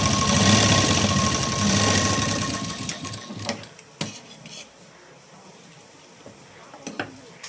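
A sewing machine runs in a steady burst for about three seconds while stitching tucks into a katori blouse cup, then stops, leaving a few light clicks and handling sounds of fabric and parts.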